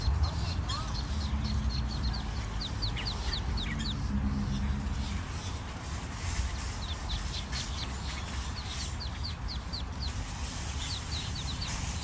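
About twenty baby ducks crossing a street in Plantation, Florida peep in rapid, high repeated bursts over steady outdoor background noise, with faint adult duck or fowl calls and some distant voices.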